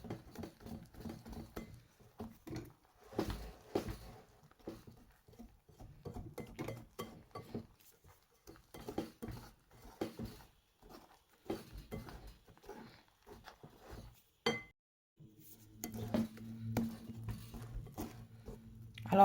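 A whisk beats a thick millet and rice batter for gnonmi fritters in a bowl, making close, irregular tapping and scraping patters against the sides with brief pauses between bursts.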